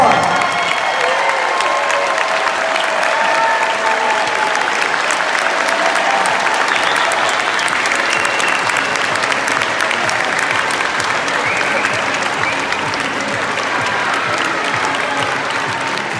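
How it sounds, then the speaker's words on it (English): Steady, full applause from a large standing audience at a student film awards night, sustained and dense for the whole stretch with faint cheering mixed in. "Let's give you a big round of applause."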